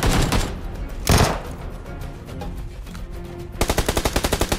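Gunfire in the battle royale game PUBG Lite, heard as a loud burst of automatic shots at the start, a single heavy blast near one second, and a rapid, evenly spaced volley at the end.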